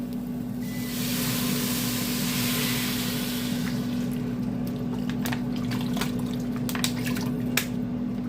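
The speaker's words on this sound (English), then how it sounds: "I'm going to go ahead and add my water." Water pouring steadily into a cooking pot for homemade yellow rice, about six cups, a continuous close liquid rush with a few drips and splashes toward the end, no talking.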